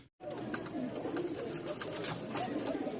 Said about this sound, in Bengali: ককা ডাকতেছে, দেখছেন?